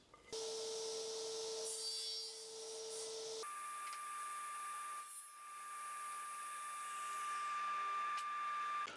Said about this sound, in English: I'm just going to show you real quick how to cut the centerpiece